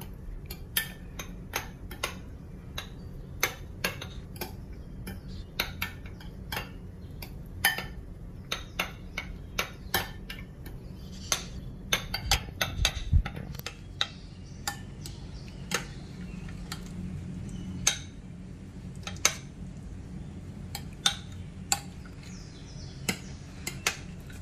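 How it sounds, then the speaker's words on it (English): Egg yolks and mayonnaise being mixed in a bowl for potato salad: light, irregular clinks and taps of a utensil against the bowl, faint and scattered over a quiet background. "We have combined the egg yolks and mayonnaise nicely"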